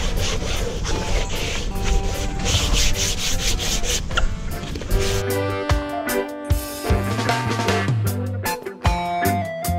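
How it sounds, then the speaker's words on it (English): Hand wet sanding on faded Waverunner bumpers gives steady scraping strokes, up close and rhythmic, with wet squeaky rubbing as the motion slows toward the end. "I decided to wet sand"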